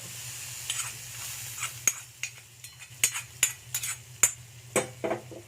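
Hot spiced oil tempering poured into a Kerala-style curry on a gas stove, giving a soft sizzle with several sharp metallic clinks and taps of a pan or spoon against the pot, close and moderately quiet, with no talking.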